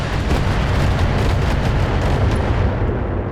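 An artillery barrage in the mech strategy game Battletech, a dense continuous roar of overlapping booms and blasts at constant high loudness, fading slightly at the very end.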